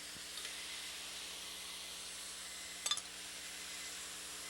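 Steady faint hiss of steam from water in a hot Turbo Cooker Plus, with a couple of small clinks partway through and no talking.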